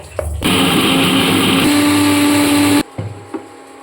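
Electric spice grinder whirring loudly and steadily for a few seconds as it grinds dried red chillies, whole black peppercorns and five-spice, starting and stopping abruptly with faint rattles after.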